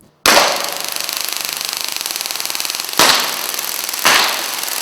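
A police Taser being fired: a sharp onset into a loud, rapid electric crackling buzz that runs steadily for several seconds, then two more abrupt bursts of crackle close by, with no talking.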